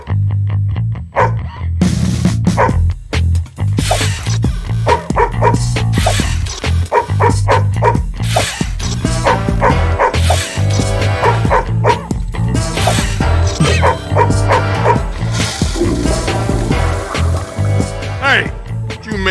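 Dog barking and yipping in the Madagascar 2 Penguin Caper video game, repeated short barks and whimpers mixed into loud game music and voices, with people talking over much of it.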